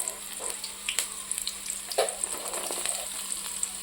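Carrot pieces sizzle in a hot pan while Maggi masala noodles are cooked in a village kitchen, a steady faint frying hiss with light stirring scrapes and small pops, no talking.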